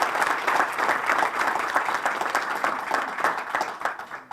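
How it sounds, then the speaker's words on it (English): Audience applause at a park groundbreaking ceremony, a sustained, fairly loud round of clapping from a crowd outdoors that fades slightly near the end. "let's give them a round of applause"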